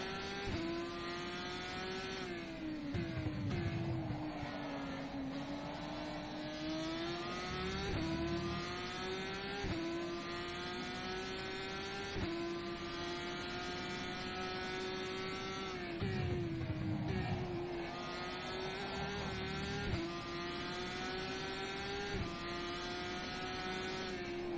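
A GP3-class race car in rFactor 2 laps at steady speed on a warm-up lap, its engine drone rising and falling with upshifts and downshifts, close and continuous with no talking.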